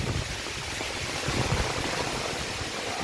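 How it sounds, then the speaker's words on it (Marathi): Heavy rain falls steadily in a wild area near an anthill, a dense, loud, even hiss of downpour with no pauses and no voices. "खूप जोराचा पाऊस आला का"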